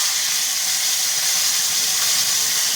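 A fish dropped into hot oil sizzles in a pan, giving a steady, loud, close hiss that holds unbroken throughout.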